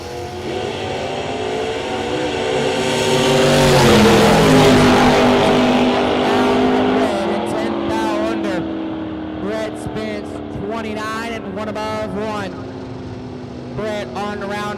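Pickup trucks drag racing at a bottom bulber shootout: loud engines roar and swell to a peak a few seconds in, then fade into a long drone, with an announcer talking over the racing throughout.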